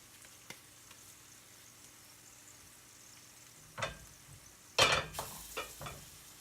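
Latkes are lowered into hot oil in a skillet, starting with faint quiet sizzling, then sharp loud bursts of frying hiss as each one goes into the pan, with light clatter of utensils.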